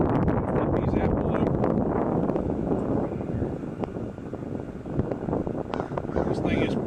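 Wind blows steadily outdoors around an Expert Grill pellet smoker where bacon is being smoked. The gusts make a continuous broadband rush with microphone buffeting, and a voice talks over it throughout.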